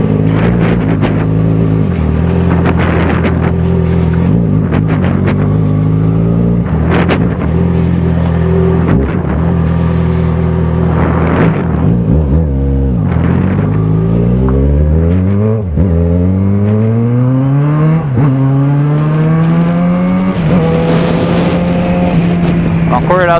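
Yamaha XJ6 motorcycle accelerating hard from cold through repeated gear changes, each shift marked by a rising engine whine, loud and close with wind rush and occasional speech over it.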